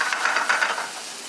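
Okonomiyaki sizzles on a hot griddle as a spatula flips it, a short burst of crackling, stirring-like frying noise that settles into a steady soft hiss.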